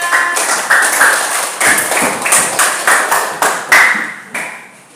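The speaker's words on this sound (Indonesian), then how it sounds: "Tepuk tangan untuk Mbak Lila." Several sharp separate hand claps ring out for a student in a classroom, spaced unevenly and loud and close, each with a short bright decay.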